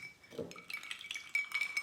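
Glasses clink lightly in a toast, a few faint bright taps and small rattles of glass, quiet and close against an otherwise hushed room.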